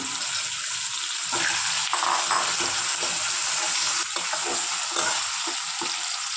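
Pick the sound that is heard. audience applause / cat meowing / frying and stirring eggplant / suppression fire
frying and stirring eggplant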